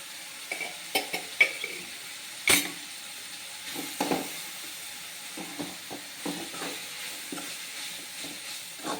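Tomatoes with coriander powder, garam masala and Kashmiri chili are stirred in a pan for a vegetarian egg curry, giving a quiet, steady sizzle with intermittent clinks and scrapes of a spoon against the cookware.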